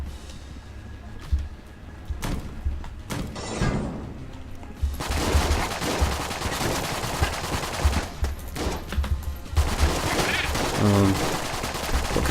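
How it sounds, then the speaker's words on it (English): Rapid-fire gunshots from a high-rate-of-fire gun in the roguelike shooter Enter the Gungeon, sounding as dense, continuous bursts of game gunfire over a busy soundtrack, heaviest in the second half. "You want to have a gun that fires a lot in rapid succession"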